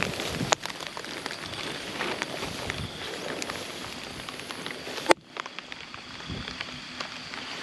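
Steady rain pours at night in a mountain area, a dense, even hiss with scattered drops and a sharp knock partway through, heard close with no talk.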